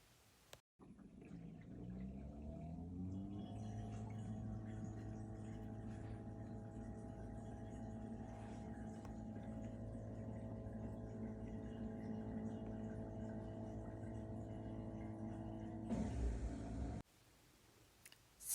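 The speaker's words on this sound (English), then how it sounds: "So you can hear the whirring sound that is not normal." A faulty drain pump in a Bosch Ascenta SHE3ARF6UC/21 dishwasher whirs during the drain cycle. A steady, droning, tonal hum starts a few seconds in, holds evenly with faint water noise, and cuts off near the end.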